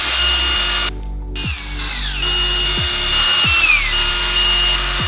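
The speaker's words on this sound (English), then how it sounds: "I'm gonna step up to the next size drill bit and it should work fine" A power drill bores a hole with a larger bit through a homemade custom side skirt, a loud, steady whine broken by several brief stops and restarts, heard close with no speech.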